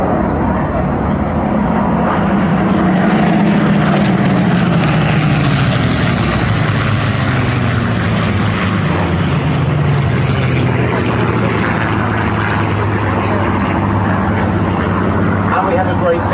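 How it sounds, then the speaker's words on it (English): Three Griffon-engined Supermarine Spitfires, a Mark 18, Mark 14 and Mark 9, fly past at the Duxford Flying Legends airshow. A loud, sustained propeller drone rises and sweeps across, continuous and powerful. "They're going from left to right with the 3 Griffin engine Spitfires, the Mark 18, the Mark 14 and the Mark 9."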